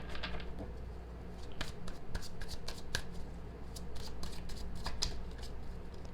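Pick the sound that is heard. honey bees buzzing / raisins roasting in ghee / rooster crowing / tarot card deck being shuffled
tarot card deck being shuffled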